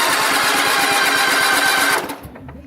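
A small engine with a valve stuck open too far, started while the brake is pushed, runs roughly with a rapid uneven chatter for about two seconds, then pops and dies away nearby.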